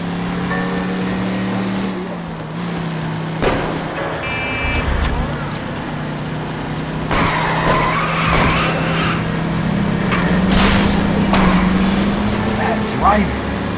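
A car in the video game L.A. Noire drives with a steady engine drone, tires squealing and skidding repeatedly, loud and close, as someone speaks over it.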